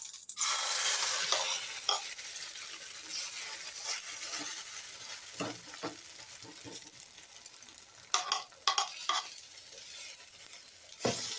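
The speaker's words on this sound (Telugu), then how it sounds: "ఆయిల్ వేసుకున్న తర్వాత కలిపి పెట్టుకున్న ఎగ్ని తీసుకొని ప్యాన్ పైకి అయితే" Beaten egg poured into hot oil in a pan, a steady close sizzle and hiss with a few scraping stirs near the end, no talk.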